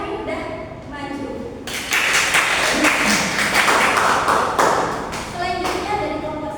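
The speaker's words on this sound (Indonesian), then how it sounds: "Tepuk tangan untuk kelompok yang udah maju" Group applause in a classroom after students finish presenting during an elementary science teaching practice session, a dense burst of claps that swells, holds for several seconds and then tapers off, with voices around it.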